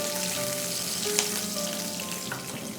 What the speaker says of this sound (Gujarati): ને જીરાને ક્રેકલ થવા દેશું